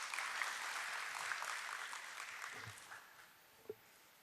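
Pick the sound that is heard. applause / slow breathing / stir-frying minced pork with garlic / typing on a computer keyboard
applause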